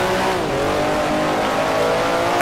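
A vintage 1967 Formula 1 car at Monza in Grand Prix Legends revs hard under throttle, a loud, steady, harmonic engine wail holding close and continuous throughout with no talk.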